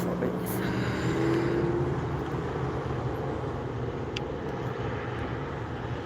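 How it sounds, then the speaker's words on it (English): An Allegiant Airbus A320-200 airliner at an airport gives a steady, broad jet engine roar heard from a distance, continuous and fairly loud, with a brief tonal whine near the start and outdoor noise around it. "our last aircraft for today, an Allegiant Airbus A320-200 CEO, going to Boise, Idaho"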